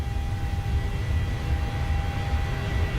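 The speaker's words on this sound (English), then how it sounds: "Gary, that's what you normally take off at in the 737 at this weight and everything." A Boeing 737 rolls down the runway for takeoff in the MSFS 2020 flight simulator, heard as a steady, loud jet engine roar with a strong low rumble and a faint high whine, continuous for three seconds with no talk.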